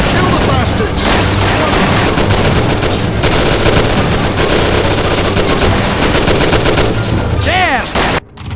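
A shootout in the game Mafia, with loud continuous rapid-fire gunshots and machine-gun bursts rattling close by for several seconds before a brief drop at the end.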